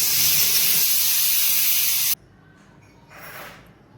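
A pressure cooker on the stove, cooking beef qorma, hisses steam in a loud, steady jet that cuts off abruptly, leaving a quieter room with a brief softer hiss afterward.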